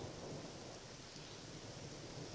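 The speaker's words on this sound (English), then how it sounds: "It looks like it's already starting to break up a little bit, even though it's still raining" Steady rain falls in a wooded field just after a thunderstorm, a dense even hiss with low rumbling underneath, continuous and close, with no voices.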